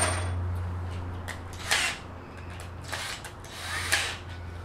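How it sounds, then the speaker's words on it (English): A power drill with a 1/8 inch bit bores into wood clamped in a finger joint jig, giving several short whirring bursts over a steady low motor hum. "I'm going to drill a location for these bolts to go through, and I'm going to do it first with an 1/8 inch bit"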